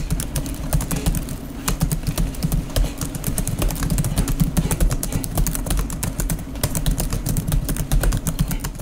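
Rapid, steady typing close up on an HP 14S DK1001AU laptop keyboard, dense clicky keystrokes in a continuous stream over a low background hum.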